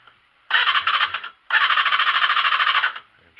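Suzuki Across motorcycle engine cold-started on full choke: two loud starter-and-catch bursts, a short one then a longer steady run, close up, with no voices.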